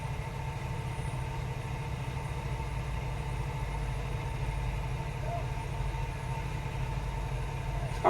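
A truck engine idles steadily in the background, a constant low rumble that runs unbroken through the whole stretch with no other sounds standing out.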